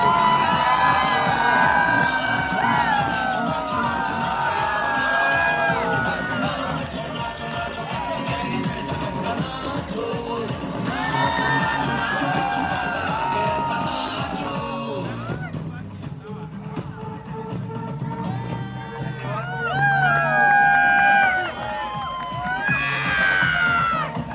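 Lively crowd at an RTO sports day cheering after a cricket match, with voices shouting and whooping in bursts over steady chatter, loud and close, with a quieter stretch midway before the cheering swells again.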